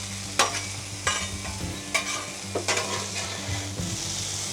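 Bacon, onions and potatoes fry on a flat griddle with a steady, close sizzle, broken by several sharp spatula clacks and scrapes as the food is stirred and pushed around.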